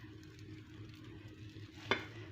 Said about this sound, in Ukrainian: І перекину і ось так погружу його на сковорідку.